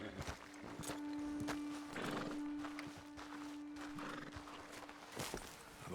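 Faint horse sounds in a video game: hooves clopping and snorting with a whinny, set against a steady low hum and light rustling.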